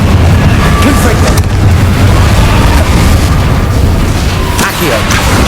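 A Confringo explosion spell goes off in the video game Hogwarts Legacy, a loud booming blast with a dense rumbling roar amid heavy game sound, with a voice calling out spells.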